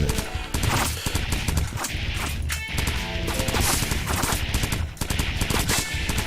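Rapid submachine gun fire from the top-down shooter Crimsonland, dense bursts of shots blending into a continuous loud barrage with crashes and impacts, pausing briefly before resuming.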